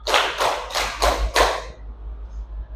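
Five sharp hand claps in a steady rhythm, close and fairly loud, from a classroom group clapping together, followed by quiet room noise.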